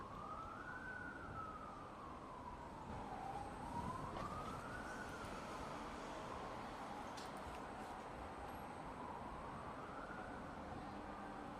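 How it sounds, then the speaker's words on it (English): A far-off emergency vehicle siren wails in slow, rising and falling sweeps during a Middle East war. It stays faint and steady throughout, with no talking. "Hearing a siren."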